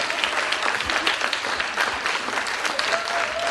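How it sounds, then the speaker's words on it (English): An audience claps at a non-violence summit panel, a steady, dense burst of applause that carries at even loudness for several seconds with no talk over it. "Let's give Mr. Kellibrew a round of applause"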